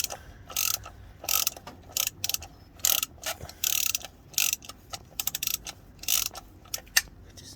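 Ratchet wrench loosening the oil filter on a 2017 VW Transporter T6 2.0 diesel during a service, a burst of rapid clicking ratchet strokes in short uneven bursts, close and clear with no talk.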